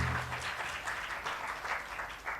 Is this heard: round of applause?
yes